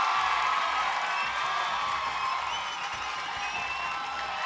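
A lively audience at a Christmas celebration claps and cheers in a dense, continuous wash of noise, with shouts and whoops mixed into the steady applause throughout.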